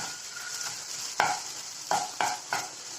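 A spoon stirring an egg and sliced vegetable mix in a pan, several distinct scraping strokes over a soft continuous frying hiss, close and fairly quiet with no voices.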